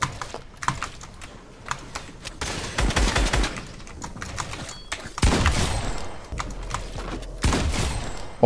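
Rapid bursts of gunfire in a realistic 2v2 online shooter match, sharp cracks and short volleys repeating across the moment, fairly close and loud, with no voices over them.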